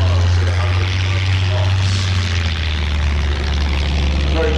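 A Supermarine Seafire propeller fighter flies past at the Shuttleworth Fly Navy airshow, its engine a loud, steady, continuous drone that holds throughout without a break.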